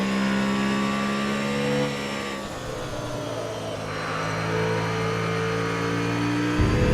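Touring race car in Grid Autosport with its engine note falling after the throttle is released, a loud nearby whine that drops and wavers, then picks up sharply at the end.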